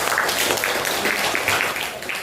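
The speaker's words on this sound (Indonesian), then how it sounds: "Tepuk tangan buat Putra" Classroom applause for a student, a brief, dense burst of many hands clapping together, loud and close, with faint voices mixed in.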